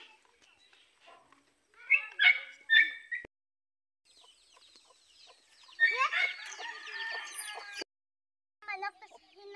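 Chickens cluck and squawk in scattered bursts during feeding, with a longer noisy stretch of overlapping calls in the middle, heard close with quiet gaps between.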